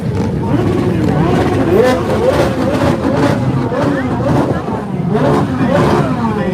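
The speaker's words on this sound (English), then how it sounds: "more stuff is revving over here" Car engines rev and rise and fall in pitch at a Coffee & Cars meet at the Circuit of the Americas, with crowd chatter and nearby voices throughout.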